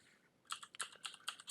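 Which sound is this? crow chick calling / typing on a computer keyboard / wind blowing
typing on a computer keyboard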